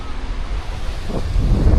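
Surf rolls onto Kutubdia sea beach while strong wind buffets the microphone, a loud low rumble that swells toward the end with no speech.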